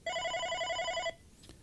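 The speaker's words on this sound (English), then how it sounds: "you wait for the call to start ringing" An OpenStage 15 desk phone rings with an incoming call, one steady electronic ring burst of about a second, clear and close, followed by a quiet room.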